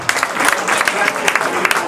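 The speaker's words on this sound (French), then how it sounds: "Merci, on peut l'applaudir, Pascal Thibault" Audience applause after a post-match talk for a rugby club, a dense steady patter of many hands clapping throughout, fairly loud and close, with no one speaking over it.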